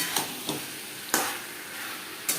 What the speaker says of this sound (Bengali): মশলার সাথে আলু পটল আরও 3-4 মিনিট রান্না করব।